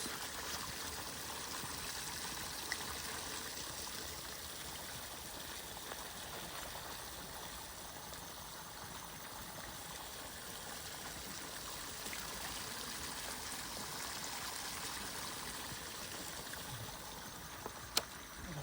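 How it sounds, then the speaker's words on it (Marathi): Water from a motor pump flowing through a sugarcane field for irrigation, a soft, steady trickling stream that stays faint and even throughout, with occasional small knocks. "हे बघा मित्रांनो ऊसासाठी पाणी चालू आहे"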